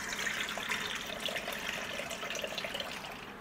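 Soaking water from cashews being poured off into another vessel, a steady continuous splashing trickle that runs close and fairly loud throughout.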